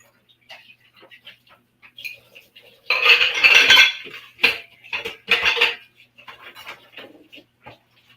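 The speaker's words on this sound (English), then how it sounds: "I have to wash these dishes real quick." Dishes and cutlery clatter and scrape while being washed in a kitchen sink, with dense bursts of clinking metal and crockery that come and go, close and fairly loud, and a few brief voice sounds in between.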